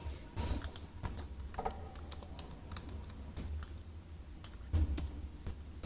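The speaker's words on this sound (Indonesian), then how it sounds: "tekan tombol Ctrl page up" Computer keyboard keys are pressed in quick, uneven clicks during an Excel shortcut demonstration, crisp and close with short pauses between taps.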